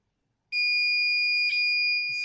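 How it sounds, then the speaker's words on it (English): A buzzer on a homemade multi tester powered by an old rechargeable battery from a mosquito bat gives one loud, steady high-pitched tone that holds for nearly two seconds with no speech. "Hope you heard the sound from this buzzer."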